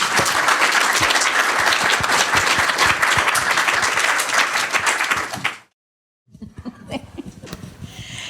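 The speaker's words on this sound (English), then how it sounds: "can I please ask you to give a warm round of applause to our panel?" An audience at a conference gives a panel a dense, loud round of applause that holds steady for several seconds, then cuts off abruptly before scattered, fainter clapping resumes.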